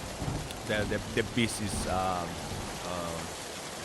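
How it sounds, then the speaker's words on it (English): Rain and thunderstorm sound effects from a Unity game play as a steady rain hiss, partly under someone talking. "starts raining, and when the player reaches the other trigger, the thunderstorm, it starts triggering the"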